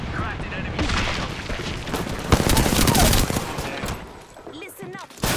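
Video game gunfire, rapid automatic bursts and heavy booming shots in a loud, dense firefight, punctuated by sharp impacts, with voices speaking over the combat.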